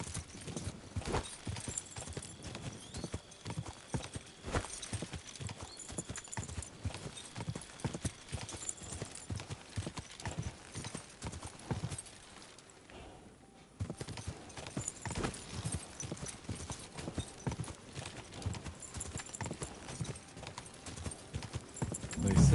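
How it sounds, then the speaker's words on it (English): Steady clip-clop of horse hooves on a hard surface, a brisk rhythmic trot that pauses briefly midway before resuming, fairly close. "They say the spectral horse appears here at midnight."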